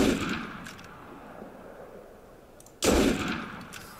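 Gunfire from weapons in the game Assassin's Creed Unity: a loud burst of shots at the start, quieter background afterward, then another heavy burst near the end and a sharp final shot.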